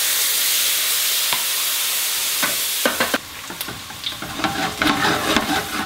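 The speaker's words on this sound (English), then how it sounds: "I'm going to deglaze this." A hot pan deglazed after frying veal for schnitzel: a loud, steady sizzle and hiss that breaks into crackling, bubbling spatter as liquid hits the pan, with some stirring scrapes.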